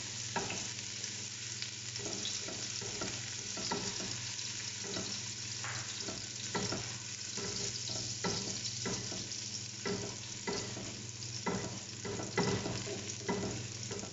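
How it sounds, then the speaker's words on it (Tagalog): Garlic sautés in olive oil in a pan, giving a soft, steady sizzle with repeated light scraping and stirring strokes, close and continuous with nobody speaking. "Tapos, gisahin po natin yung bawang."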